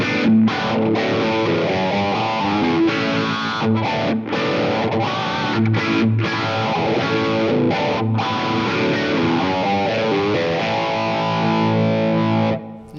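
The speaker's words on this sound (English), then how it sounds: "Next is my phaser for what's it called, 2112, where we're going." Distorted electric guitar played through a phaser effect on a Line 6 Helix LT, riffing on Rush's 2112 with a sweeping, swirling tone, loud and continuous with brief stops between phrases.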